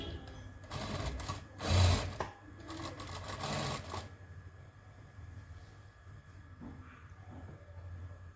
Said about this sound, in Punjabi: ਹੁਣ ਤੁਹਾਨੂੰ ਮੈਂ ਸਾਰੀ ਸਲਾਈ ਲਾ ਕੇ ਦਿਖਾਉਣੀ ਹੈ ਸਲਵਾਰ ਦੀ